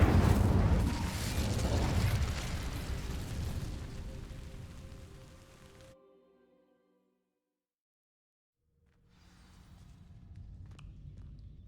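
An Incendio fire spell cast in Hogwarts Legacy on PS5, a loud roaring burst of flame that fades over several seconds into silence, followed by quieter rumbling ambience.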